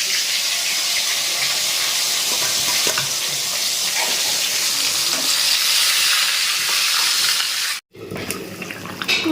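Fish curry simmering in a pan gives a loud, steady bubbling sizzle that runs close and continuous, then cuts out abruptly near the end before quieter kitchen noise returns.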